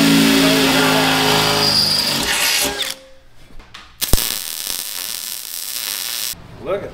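A ratchet torque wrench tightens bolts on a metal bracket, giving a loud burst of rapid clicking and mechanical rattling before dropping to quieter clicks and a sharp knock.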